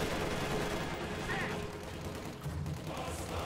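Dense, continuous machine-gun fire and distant explosions from a Company of Heroes 2 battle, with a half-track nearby, forming a steady wall of gunfire noise.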